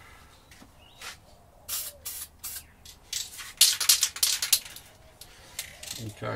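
Light coat of spray paint going onto a left-handed Tele-style electric guitar body kit, heard as short repeated hissing bursts of varying length from close by, growing denser toward the middle.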